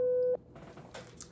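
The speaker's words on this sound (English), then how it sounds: "Hold on, that's my phone." A phone rings once with a steady electronic tone, then cuts off abruptly, leaving quiet room sound behind.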